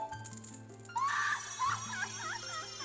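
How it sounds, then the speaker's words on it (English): The Great Fairy in the video game Zelda: Ocarina of Time lets out a shrill, warbling scream that wavers up and down in pitch over a soft background tone, fairly faint overall. "And that scream, I was not with it as a kid"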